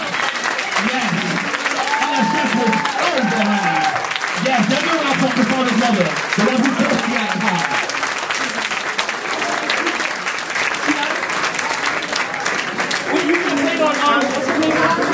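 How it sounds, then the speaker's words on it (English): Sustained audience applause fills a memorial gathering, steady and fairly loud throughout, with voices and talk audible over the clapping. "can y'all give Kassandra's mother a round of applause?"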